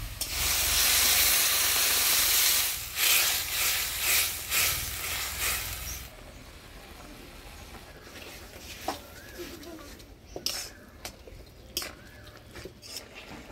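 Water poured into a hot pan of frying sweet potato greens bursts into a loud, broad steaming hiss for several seconds, then settles into a quieter simmer with occasional sharp clicks and pops, close up and without talking.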